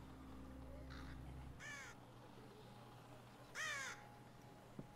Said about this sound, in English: Crows are never a good sign.